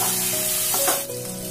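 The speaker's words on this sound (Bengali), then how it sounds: "তেলটা ছিটোচ্ছে ওই জন্য আমি দিয়ে দেবো হলুদের গুঁড়ো" Hot oil sizzles and spatters in a pan as spices are fried for a Bengali fish curry, a brief, continuous crackle at close range with no talking.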